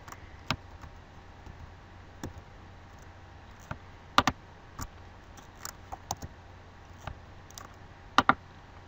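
Computer mouse clicks while coloring a logo in Illustrator, sharp isolated clicks spaced irregularly, some in quick doubles, close and clear against a quiet background, with no talking.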